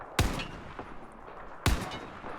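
Two single sniper rifle shots in Battlefield 4, each a loud sharp crack with a short decaying tail, spaced about a second and a half apart.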